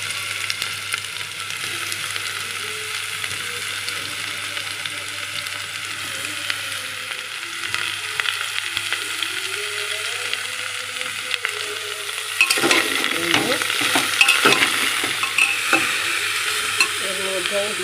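Potato, beetroot and carrot with black cumin and whole cumin frying in a pressure cooker, a steady close sizzle under repeated scraping stirs, growing louder and busier toward the end, with no talking.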